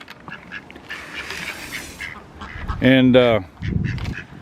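A duck quacks in a short, loud burst of several harmonic calls close by on a farm where a garden is being tilled, with someone talking before and after.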